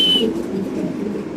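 A male Indonesian exhibition pigeon gives a short, close, low coo, heard alone with no talk.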